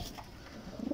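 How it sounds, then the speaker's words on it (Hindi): An original Batera pigeon lets out a brief, low coo near the end of a short moment, close by and without voices. "ओरिजिनल बटेरा कबूतर"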